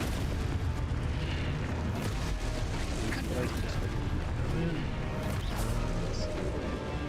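Confringo explosion spells from Hogwarts Legacy burst repeatedly in dense, loud game combat, with crashing blasts and rumbling booms layered over a constant thick wall of sound.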